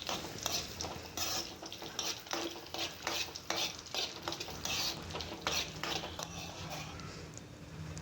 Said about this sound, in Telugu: అండ్ కాజు, బాదం, కిస్మిస్, చిరోంజి వేసుకొని మంచిగా వేయించుకోండి.